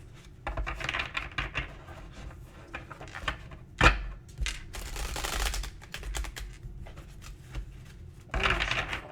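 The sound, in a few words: shuffling a tarot card deck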